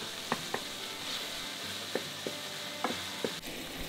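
Meat sears in a hot iron frying pan with a steady, close sizzle, broken by a few sharp taps and clicks of the pan or utensil.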